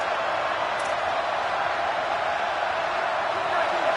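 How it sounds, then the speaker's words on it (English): Stadium crowd in a college football video game with Iowa playing Oklahoma, a steady, loud wash of cheering and roaring that holds evenly throughout without breaks. "this crowd trying to help keep them there"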